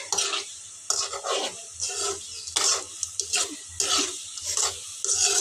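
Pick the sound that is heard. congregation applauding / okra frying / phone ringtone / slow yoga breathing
okra frying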